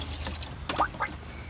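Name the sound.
water flowing through boat freshwater plumbing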